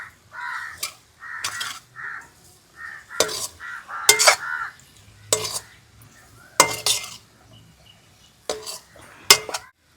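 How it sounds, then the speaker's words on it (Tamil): A spoon scrapes and clanks against a pot while mango pickle is stirred with chili powder, in irregular close knocks and scrapes with quiet gaps between them. "காரத்தூள்லாம் போட்டு நல்லா கிண்டியாச்சு."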